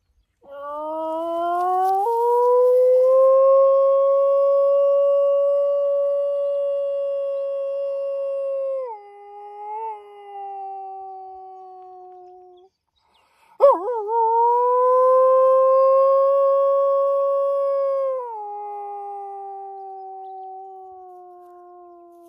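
A human voice imitating a long, wavering canine howl to lure wild dogs, sustained and loud, broken by a short pause before a second drawn-out howl that slides downward.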